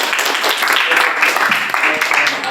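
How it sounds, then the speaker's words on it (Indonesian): A classroom of school students claps steadily for about two and a half seconds, a dense wash of hand claps mixed with chatter. "tepuk tangan buat"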